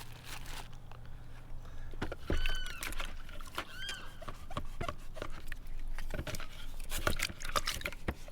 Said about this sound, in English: I just need a couple of stalks of celery. I'm going to give these a good rinse as well.